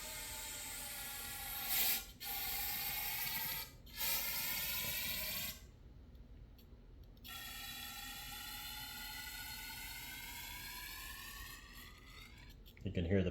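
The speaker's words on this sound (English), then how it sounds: "You can hear the pitch change as it's getting towards the top." Carb cleaner sprayed in bursts into a fuel injector rail, a hissing spray with short gaps, then a steady filling hiss whose pitch rises toward the end, ending in a louder spurt.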